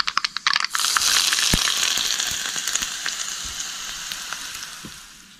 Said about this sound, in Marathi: ही फोडणी आता ही चटणीत ओतायची